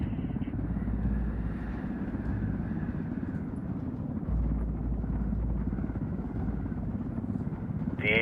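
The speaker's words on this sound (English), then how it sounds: "Tower, helicopter 4-5 Romeo Whiskey." Helicopter flying in the video game Ghost Recon Wildlands, a loud continuous rotor and engine drone that stays steady and close throughout, with no voices over it.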